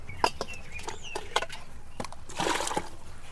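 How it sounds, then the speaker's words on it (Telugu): Water poured out of a ceramic pickle jar planted with lotus, splashing and trickling in short bursts that grow into a fuller gush near the end, close by, with faint birdsong in the background. "ఇప్పుడు మనం నీళ్ళు అయితే తీసేద్దామండి"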